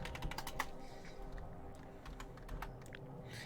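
Close, rapid clicks of typing on a computer keyboard in a quick irregular burst over a soft background hum, no talking.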